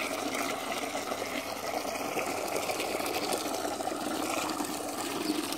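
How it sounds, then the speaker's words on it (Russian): A garden water pump runs with a steady faint mechanical hum and whirr, mixed with continuous trickling water and no voices. "Ну что, насос заработал."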